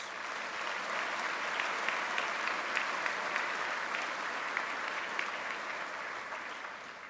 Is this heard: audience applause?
yes